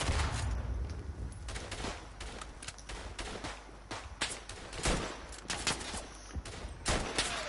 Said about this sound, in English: The one I'm using now, I think, sounds slightly different to the other Berthier rifle.